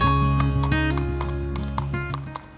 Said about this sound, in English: I'm taking 3 horses to the ODS qualifier in the Meadows on Tuesday: 6-year-old LVS Galtee, 7-year-old LMK Derry